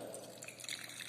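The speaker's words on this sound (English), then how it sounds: "pouring hot water into this beaker" Hot water poured into a beaker for a copper-coil temperature setup, a steady close trickle and splash of liquid with small drips throughout, no talk.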